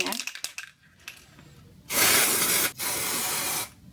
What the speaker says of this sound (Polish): Tą gwiazdeczkę spryskam jeszcze brokatem sprayu.